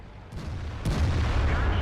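122mm tank cannon firing in the video game World of Tanks, a sharp muffled boom followed by a second louder blast and a rumbling tail, heard up close over game background noise.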